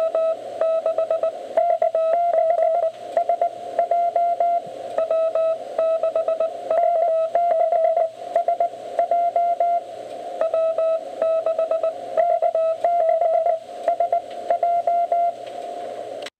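Many Morse code CW calls from an amateur radio DX pileup overlap in a busy, continuous stream of keyed tones and rapid dits and dahs at a steady pitch over faint hiss, with no speech.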